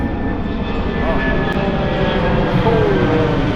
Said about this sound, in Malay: Alamak, kapal terbang dah.